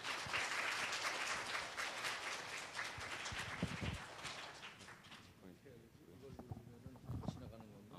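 An audience at a science festival lecture in Korea applauds to welcome a government minister, with dense clapping at the start that fades gradually while a voice speaks over the tail end.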